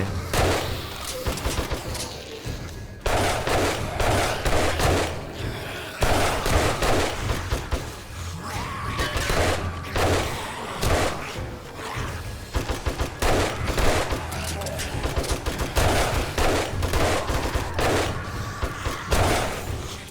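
Rapid bursts of gunfire ring out in the survival video game 7 Days to Die, fired while hanging from a ladder, loud and repeated in uneven volleys through the whole stretch.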